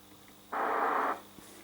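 A short, sudden burst of static hiss from a CB radio lasts about half a second, then cuts off into near silence.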